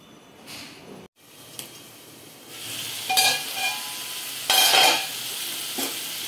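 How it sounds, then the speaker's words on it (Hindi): French beans and potatoes fry in a pan with a steady close sizzle, swelling into louder hissing bursts as they are stirred and tossed, with no one talking. "चलिए फ्रेंच बीन्स और आलू की सब्जी बना रहे हैं, इसको अभी फ्राई कर रहे हैं"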